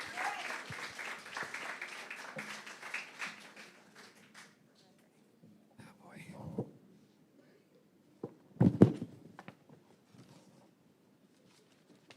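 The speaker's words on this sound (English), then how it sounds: "Let's give him a round of applause." Audience applause at a school graduation ceremony, a few seconds of clapping that fades out, with a brief burst of sharp handling noise later in a quiet hall.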